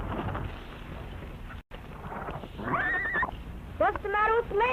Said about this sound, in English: Must be another horse. That's the way they say hello, you know.